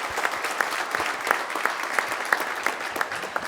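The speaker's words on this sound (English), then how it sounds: "Let's give her a round of applause." Steady audience applause at a Weslaco High School college signing ceremony, dense clapping from a crowd, fairly distant and even throughout with no talk over it.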